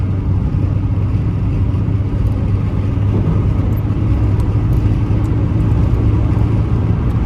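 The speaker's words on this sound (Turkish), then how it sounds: "Yani dibine kadar değil böyle dibin bir tık üstünde basıyorum gaza" Steady, loud engine drone inside a BMW 316i as the throttle is pressed nearly to the floor, a constant low rumble with road and wind noise filling the whole stretch and no clear rise in pitch.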